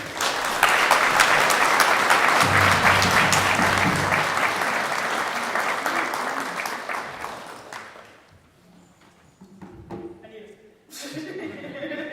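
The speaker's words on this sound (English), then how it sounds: "Let's have a round of applause." Sustained audience applause at a graduation honoring ceremony, loud clapping that swells and then tapers off after about eight seconds, followed by a few scattered claps and quiet room sounds.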